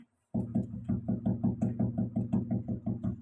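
Knocking on a door demonstrated during a talk, a steady run of about fourteen quick, even knocks, close and fairly loud, starting abruptly after a brief silence.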